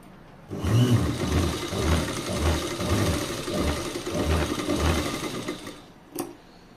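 Sewing machine running steady stitches along a ghagra seam, a close, loud mechanical whir with regular rhythmic pulses, stopping near the end with a brief click.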